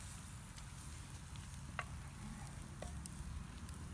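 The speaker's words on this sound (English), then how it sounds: "just enough to get that pan sizzling, because cast iron holds the heat" Food sizzles steadily in a hot cast iron pan, a constant crackling hiss with occasional small pops, close by and without talk.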